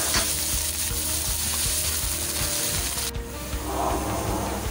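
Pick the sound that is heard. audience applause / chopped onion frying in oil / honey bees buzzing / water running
chopped onion frying in oil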